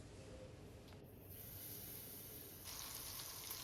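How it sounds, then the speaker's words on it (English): Japanese karaage chicken, flour-coated, fries in hot oil with a soft, steady hiss and sizzle that grows slightly louder partway through, quiet and alone without talk. "While the karaage is frying, I'll quickly microwave the broccoli."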